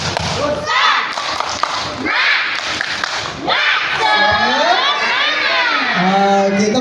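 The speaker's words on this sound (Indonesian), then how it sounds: "Tepuk semangat." A group of schoolchildren on an outing to a fire station performs a spirit clap routine, rhythmic thumping claps mixed with loud shouted chanting voices from the crowd.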